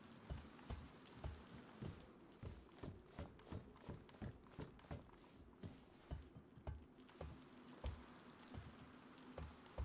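Rain falls outside in the video game DayZ, with rhythmic soft thuds like footsteps on a ladder over a continuous faint patter, close and fairly quiet.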